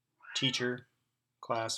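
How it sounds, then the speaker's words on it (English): A cat meows twice in short, clear calls indoors, the second following after a brief pause; someone speaks in the same moment. "You may hear him meowing."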